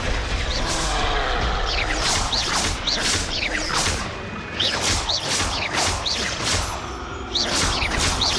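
Rapid Descendo, Repulso and Bombarda spells fired in a Hogwarts Legacy battle make repeated sharp whooshing swipes and crashing impacts in a steady rhythm, loud and close, over constant game noise.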